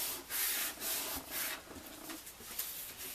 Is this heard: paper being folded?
yes